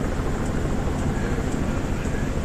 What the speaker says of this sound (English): I hear helicopters flying around.